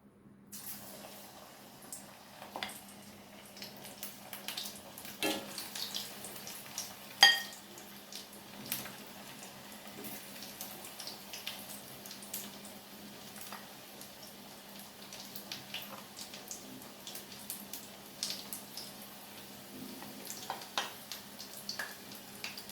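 Yam pieces frying in hot oil, a steady low sizzle with soft bubbling crackle running throughout, moderately quiet and close, with no talking.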